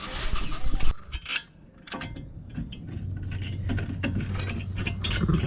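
Metal clinks and rattles as brake pads are pulled out of the caliper on a Subaru WRX STI, close and irregular, with brief scrapes and knocks and a short quiet pause near the start.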